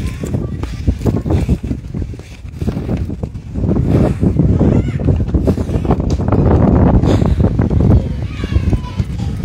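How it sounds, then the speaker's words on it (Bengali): Wind buffets the microphone in continuous gusty rumbles on the Langkawi Sky Bridge, loud and close, with faint voices underneath. "আর কি যে সুন্দর বাতাস।"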